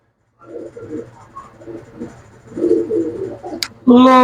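Pigeons coo close by at a pigeon market, low throaty calls repeating over about four seconds, ending in a sudden louder burst of noise.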